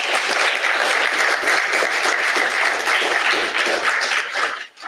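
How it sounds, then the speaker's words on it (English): Audience clapping after a talk on young Alabamians' diaries and scrapbooks, a dense round of applause that holds steady then tapers off at the end. "another round of applause for Haley Aaron."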